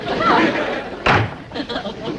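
A house door slams once with a sharp, loud bang in the middle of indoor background chatter and murmured voices.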